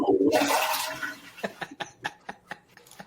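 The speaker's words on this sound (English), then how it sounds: "He's going to flush the toilet, man, right now." A toilet flushes with a loud rushing surge of water that tapers off, followed by a series of short gurgling pulses as the bowl drains.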